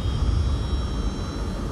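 A passenger airplane flies overhead, a continuous broadband engine roar holding steady at moderate level with no talk.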